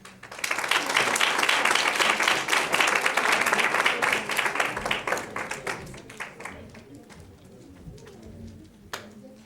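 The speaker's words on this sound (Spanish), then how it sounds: "Le recibimos con un fuerte aplauso." Strong audience applause for a speaker at a human rights lecture, loud dense clapping that builds quickly, holds, then thins out and fades to scattered claps.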